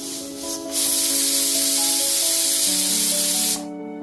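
A pressure cooker cooking mutton with fried potato pieces lets off a loud, steady hissing whistle with a tonal edge, lasting about three seconds before cutting off abruptly.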